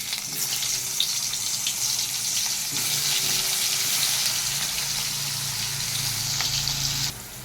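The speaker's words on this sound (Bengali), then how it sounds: "কাঁকরোলটাকে সবার আগে ভেজে নেব।" Spiny gourd (kakrol) frying in hot oil, a steady loud sizzle and crackle that runs continuously, then drops away near the end.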